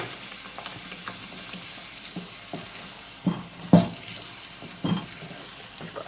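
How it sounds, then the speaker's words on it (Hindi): Chicken frying with onions and masala in a pan, a steady close sizzle broken by a few louder scrapes and clanks of a spoon stirring against the pan. "ताकि जो है ये मसाला और चिकन भुन जाए"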